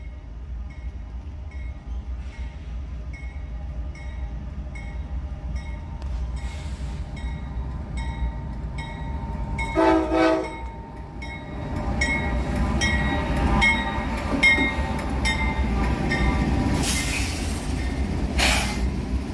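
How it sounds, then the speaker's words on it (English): Norfolk Southern NS 211, an intermodal freight train from New Jersey to Atlanta, rolls through Greenville, with a steady rumble of wheels and cars, horn blasts near the start and middle, and squealing metal toward the end. "NS 211 would roll through Greenville with a friendly crew in command of this Croxton, New Jersey to Atlanta, Georgia intermodal train."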